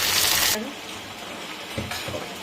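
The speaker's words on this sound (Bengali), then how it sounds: "চলুন কিছুক্ষণ একটু একটু কষিয়ে নিই" Spices and garlic sizzle in a hot pan while being stirred and sautéed in a home kitchen, a steady hissing fry with brief stirring scrapes, fairly close and moderately loud.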